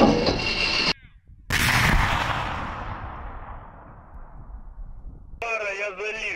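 A single loud, booming shot from a T-72A tank's main gun follows a brief burst of radio-like chatter, then rolls away in a long fading rumble before more radio voices return. Recorded on the right bank of the Dnieper.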